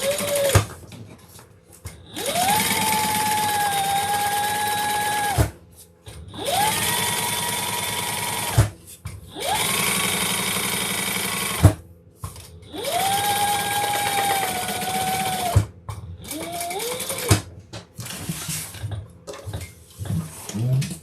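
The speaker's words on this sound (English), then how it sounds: "top stitch on the lining with that seam underneath" A sewing machine runs in four sustained bursts with short pauses between, top stitching through a bag lining with a seam underneath, its whirring motor loud and close, followed by a shorter stuttering run at the end.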